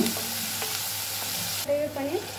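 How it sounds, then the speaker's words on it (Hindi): Chopped capsicum and spring onion sizzle loudly in a pan as they are stirred, with a few scraping knocks. The sizzle cuts off abruptly, leaving faint, quieter tones. "थोड़ी सी कटी हुई शिमला मिर्च, कटे हुए हरे प्याज की, और इसको थोड़ा सा चलाएंगे।"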